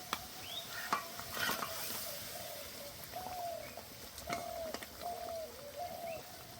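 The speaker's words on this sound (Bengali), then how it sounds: "মাছগুলো দিয়ে 5 মিনিট জাল করে নেব" Pabda fish sizzling in a pan of mustard-poppy seed gravy, a steady soft frying hiss with occasional stirring scrapes and faint bird coos in the background.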